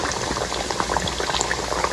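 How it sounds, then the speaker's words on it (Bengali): Marinated fish fries in hot oil, giving a steady, close, crackling sizzle with small pops and no talk. "এখন সেই মাছটাই ভাজছি।"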